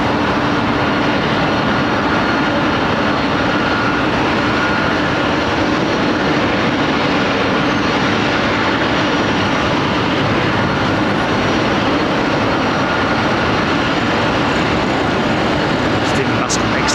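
An airliner powered by Rolls-Royce Trent jet engines at London Heathrow Airport, giving off a loud, continuous broadband roar that holds steady for the whole stretch.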